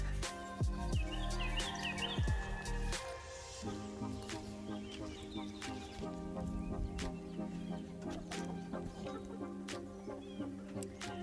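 Backyard chickens cluck softly in the morning, low murmuring calls blending with distant bird chirps and scattered clicks and knocks, with a steady low background hum throughout.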